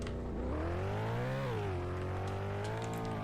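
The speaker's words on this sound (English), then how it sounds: "in the car you have your engine. Obviously you can hear it" A car engine in the ER:LC roleplay video game hums steadily throughout with a smooth tonal drone that rises in pitch briefly, then dips and settles back to a constant level. No one speaks over it.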